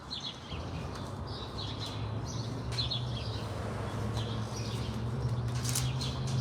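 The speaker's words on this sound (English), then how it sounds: "We got the birds chirping and everything." Birds chirping outdoors at a cafe, scattered short high tweets over a steady low hum and background murmur, moderately faint and intermittent.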